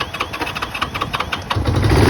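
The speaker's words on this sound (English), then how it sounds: "turn the run switch to run. And now we'll see if we start." A vintage 1975 Honda CL 360 motorcycle in candy orange, choke on, cranks with a quick run of rhythmic starter pulses, then its engine catches into a louder, fuller low rumble that holds to the end.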